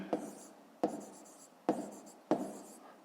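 A pen writes on paper while a fifth-grade maths exercise is worked through, four quick scratching strokes with sharp starts, close and quiet, no voice.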